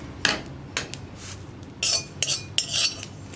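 Utensil scrapes and clinks against a pan as roasted cumin is cleared out while making homemade sambar powder: several short metallic scraping bursts, close and moderately loud, with quiet gaps between them.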